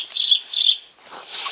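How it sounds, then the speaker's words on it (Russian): A sparrow chirps twice in quick succession, high and close, followed by a softer rustle like wing flutter. "Воробей."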